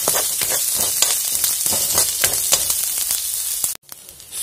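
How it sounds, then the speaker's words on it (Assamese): Onion, garlic and dried chili frying in mustard oil give a loud, steady sizzle with crackling bursts, close up and uninterrupted until a brief drop near the end. "চ' এইখিনি ধুনীয়াকৈ ভাজি ল'ম এতিয়া"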